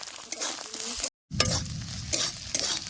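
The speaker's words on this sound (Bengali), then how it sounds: "রসুনটা সুন্দর মতোই ভাজা হয়ে গেছে" Garlic paste sizzles in hot oil with onion and ginger in a kadai, interrupted by a brief silence, then spatula stirs scrape and tap repeatedly through the crackling hiss.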